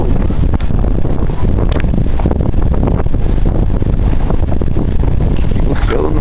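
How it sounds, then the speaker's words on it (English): Blizzard wind buffets the microphone outdoors during a February 2010 snowstorm, a loud, constant low roar with gusty rumbling throughout. "Oh, there's some wind blowing now."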